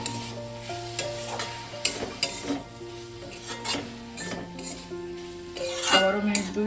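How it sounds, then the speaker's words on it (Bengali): Coriander powder and spice masala being fried and stirred in a pan, with a spoon repeatedly scraping and clinking against the metal over a steady sizzle, close and moderately loud. "আবারও মিনিট 2 আমি ভালো করে মশলাটাকে এইভাবে কষিয়ে নেব।"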